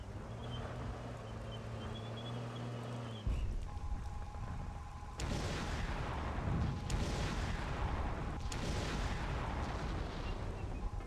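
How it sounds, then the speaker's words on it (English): Tank cannon fire in the Xbox game Conker: Live & Reloaded, with a low engine drone giving way to a series of heavy, booming shots and rumbling blasts spaced a second or two apart, no talking. "Maybe we just bring the tank."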